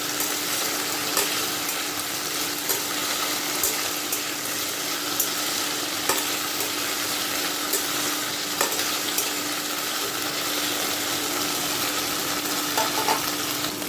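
A spice mixture fries in a pan while making aloo paratha, giving a steady, close sizzle throughout with a few faint clicks of stirring and no voices.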